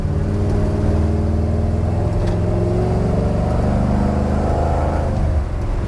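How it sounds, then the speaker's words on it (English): A Plymouth Scamp car driving with its engine droning steadily, loud and close from inside, the pitch gradually rising and shifting as it moves through transitions. "Car's making good transitions here."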